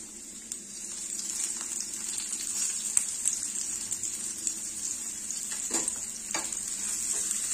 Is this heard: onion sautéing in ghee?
yes